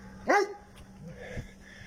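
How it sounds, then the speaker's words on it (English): A dog barks out in a St. Kitts neighborhood: one sharp bark near the start, then fainter yips and a low whine trailing off at a distance. "but you got barking dogs."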